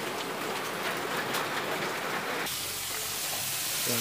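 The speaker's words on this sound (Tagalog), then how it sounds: "Ang lakas ng ulan pa." Heavy rain pours during a trip at Caliraya Lake, a dense steady hiss close by with no break, its texture shifting partway through as if the cover changes.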